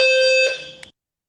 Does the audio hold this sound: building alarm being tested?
yes